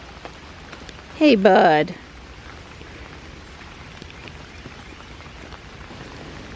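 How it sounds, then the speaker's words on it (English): Light rain patters steadily on surfaces outdoors in a soft, even hiss of scattered drops that runs the whole time, while a man briefly greets someone near the start. "but it's raining enough to notice."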